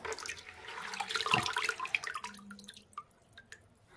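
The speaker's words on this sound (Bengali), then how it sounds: "এখন বেলপাতাগুলো সব ধুয়ে ধুয়ে রাখছি" Bael leaves washed under a running tap: a steady splashing stream fills the first half, then it thins out into scattered drips and small splashes.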